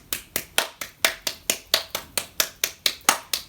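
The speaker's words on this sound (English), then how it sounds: "Our last variation of clapping is with the back of the hand." One palm clapping against the back of the other hand during a hand-focused yoga exercise, about fourteen crisp, evenly spaced claps in a steady rhythm, close and clear with no talking.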